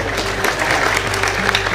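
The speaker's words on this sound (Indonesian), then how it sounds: "Ya, tepuk tangan ya." Applause from an audience at a talk by Mbah Nun, a steady dense clapping wash filling the whole moment at moderate loudness.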